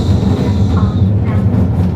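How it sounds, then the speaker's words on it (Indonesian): Interior of a light rail train riding above ground in Kaohsiung, Taiwan: a loud, steady low rumble of wheels and car body with a faint high whine, continuous throughout. "Tapi ini sebenarnya light rail ya, jadi seperti kereta atas tanah."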